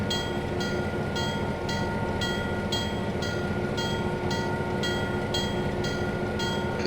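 A model railroad train on a Pennsylvania & Berwind layout rolls slowly at a steady pace with a regular light clicking rhythm over a continuous mechanical hum, close and moderate in level.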